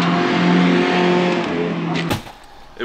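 Mazda Miata fitted with HKS headers and HKS exhaust, a loud, steady, close-up engine drone with strong low harmonics that holds for about two seconds and then drops away sharply.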